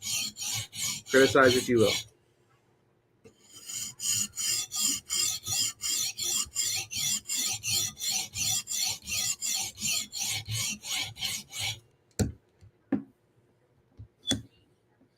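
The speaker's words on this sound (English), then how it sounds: "this is how I sharpen." A knife is drawn across a sharpening stone in a long run of steady, rhythmic rasping strokes, close and fairly loud, after an earlier short burst of strokes and a brief spoken phrase; a couple of isolated clicks follow.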